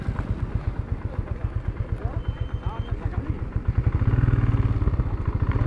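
A motorcycle engine idles nearby on an Indian road between Khajuraho and Bhedaghat, with a rapid, regular chugging pulse that swells louder toward the end.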